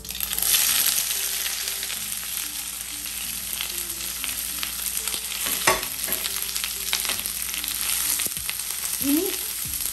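Onion, garlic, green chilli and curry leaves sauté in hot oil after mustard seeds for a green tomato thoran, giving a steady close sizzle with scattered stirring scrapes and a couple of sharper clinks, no talk.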